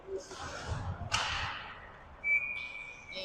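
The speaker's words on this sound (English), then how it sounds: "And a whistle." A referee's whistle sounds at an ice hockey game, a sharp, steady blast near the end over crowd noise and rink ambience, after a sudden loud crack and rush of noise.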